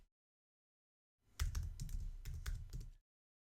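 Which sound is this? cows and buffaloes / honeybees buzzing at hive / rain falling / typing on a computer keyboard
typing on a computer keyboard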